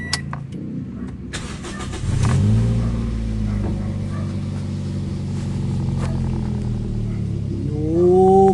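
A Toyota Vios engine cranks and catches, then idles steadily close by with a low rumble before revving up near the end; no one talks over it.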